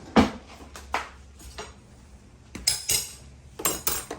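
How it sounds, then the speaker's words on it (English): A metal spatula and fork clink and tap against each other and cookware in a few sharp, separate knocks with short pauses between them, close and fairly quiet, with no talk. "Spatula and a fork."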